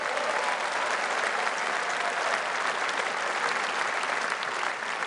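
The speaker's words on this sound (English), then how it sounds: "give her a round of applause" Audience applause at a live political rally in Birmingham, a steady, dense patter of clapping from a large indoor crowd that stays even and sustained, with no voices over it.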